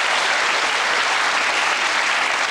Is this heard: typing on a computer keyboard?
no